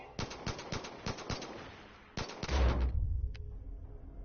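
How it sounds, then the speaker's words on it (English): Rapid gunfire bursts from Far Cry 5 on a custom map, then a heavier blast as hydrogen tanks and explosives detonate, with a low rumble that fades. "So it's a really nice big explosion,"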